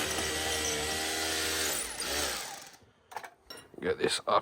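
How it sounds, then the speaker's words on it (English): A power drill whirs steadily while drilling a pilot hole for an outside tap pipe, its pitch shifting as it bores in, then stops; speech follows afterward. "So I'll drill my pilot hole first"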